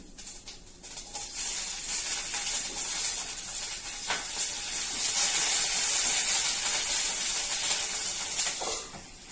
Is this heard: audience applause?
no